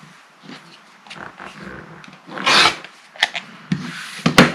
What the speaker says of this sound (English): you're just going to cut on that drawn diagonal line